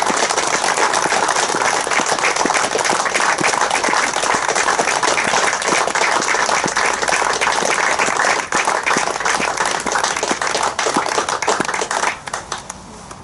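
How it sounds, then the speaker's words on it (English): Spectators at a Carlton Town versus Loughborough Dynamo football match give sustained farewell applause, dense rapid clapping from a crowd for over twelve seconds before it tapers off. "give a farewell to Paul Shelton applause"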